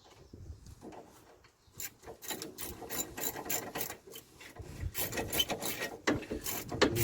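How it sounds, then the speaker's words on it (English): Rapid mechanical clicking of a ratchet and a ratchet spanner working together on a 2004 Saab 9-3 wheel hub, irregular bursts of sharp clicks growing busier and louder, close up. "You can hear both ratchets there working away nicely in unison"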